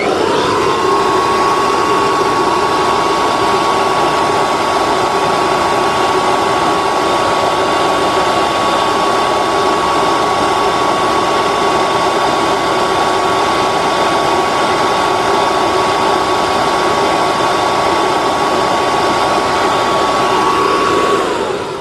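A Kirby Dual Sanatronic 80 vacuum cleaner's electric motor runs loud and steady at close range, with a sustained whine that holds constant from start to finish.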